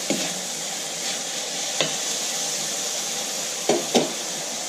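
A blender purées peppers with a loud, steady, dense whirring roar, broken by a few brief jolts and dips as the blades churn.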